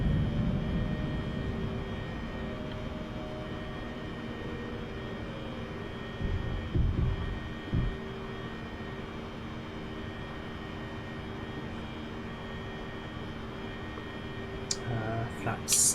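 Steady broadband roar of Embraer 195 jet engines climbing after takeoff from Frankfurt, heard from inside the cabin, with a continuous low rumble and tonal hum throughout and brief thumps partway through.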